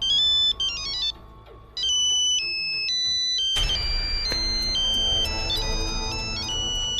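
A phone ringtone plays a bright electronic melody that loops over and over, loud and close, with no voices.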